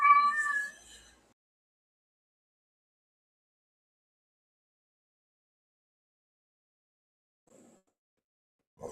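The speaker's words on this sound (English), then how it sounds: "I am getting sick and tired of this damn cat." A house cat lets out one loud, drawn-out meow close by, followed by a long silence and then two faint, brief sounds near the end.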